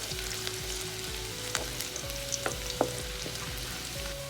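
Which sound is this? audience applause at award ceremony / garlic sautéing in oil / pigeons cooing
garlic sautéing in oil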